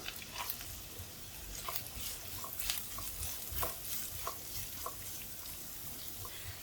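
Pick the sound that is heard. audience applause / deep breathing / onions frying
onions frying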